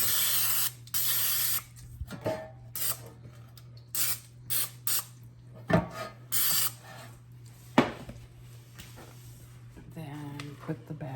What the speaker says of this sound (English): We're going to spray the bread pan.